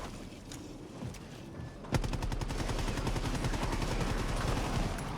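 Heavy-recoil weapon in the video game Helldivers 2, opening with a single sharp shot and then sustained, evenly spaced automatic fire that stays loud and close for several seconds, with no talk.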